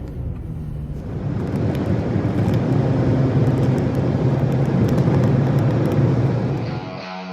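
Car driving on a New Jersey road: a steady, loud roar of engine, tyres and wind noise that holds evenly for several seconds, then drops off near the end.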